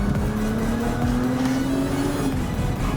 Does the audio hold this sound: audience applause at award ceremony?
no